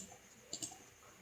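Two faint, quick clicks of a computer mouse, close together and alone against quiet room tone, made while choosing a colour in GeoGebra.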